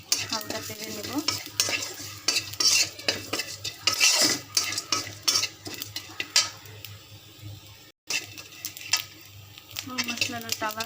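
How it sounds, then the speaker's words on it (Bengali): Whole garam masala spices stir-roasting in a little oil in a pan, with repeated scraping and clinking of a metal spoon against the pan and a light sizzle running underneath throughout. "এখন আমি এখানে একটা গরম মশলা হালকা তেলে নেব"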